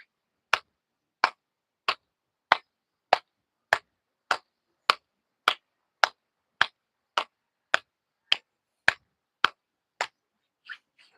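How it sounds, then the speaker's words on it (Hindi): Hand clapping done as a morning exercise: about sixteen sharp, single claps in a strict, even rhythm roughly two-thirds of a second apart, close and clean against silence, the last one softer. "तो आपको ताली अवश्य बजानी चाहिए।"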